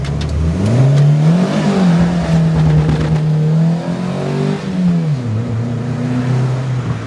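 A car fitted with a $35 phantom-style limited slip differential launches hard from a standstill, its engine note loud and close, climbing steadily, easing briefly near the five-second mark, then pulling on again.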